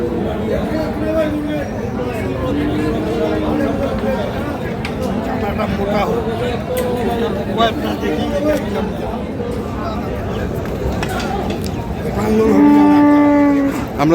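Cattle mooing repeatedly amid a busy outdoor livestock market crowd, with constant chatter and bargaining voices; one loud, drawn-out low near the end.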